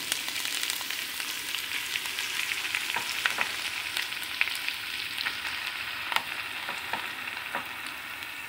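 Leafy greens frying in a hot pan in a home kitchen, a steady close sizzle with scattered crackles and pops and occasional stirring scrapes, no talk.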